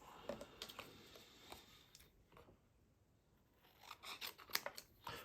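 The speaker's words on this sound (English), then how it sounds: "And then scissors." Scissors snip through cardstock for a handmade Valentine's Day card, with a run of quick, close crisp cuts, a quieter pause in the middle, then a denser burst of snipping near the end.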